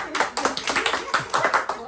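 A group of people clap in rhythmic bursts after a couple's dance at a family gathering in Surat, with voices talking over the claps.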